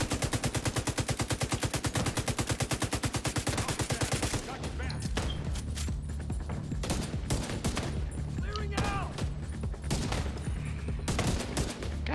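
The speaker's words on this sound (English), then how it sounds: "Shooting me from inside." Rapid, steady automatic gunfire rattles loudly for several seconds in The Division 2, then gives way to scattered bursts and single shots over a low rumble.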